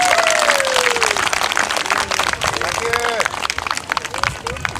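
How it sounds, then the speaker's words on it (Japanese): Concert audience applauds in a sustained, dense burst of clapping, loud and close, with a few voices and cheers mixed in throughout. "皆さんもう一度大きな拍手をお願いいたします。"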